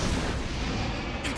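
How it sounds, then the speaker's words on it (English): An exploding blood demon art attack in Demon Slayer goes off as a loud, sustained burst of booming, crackling blasts. "Blood demon art. Exploding blood!"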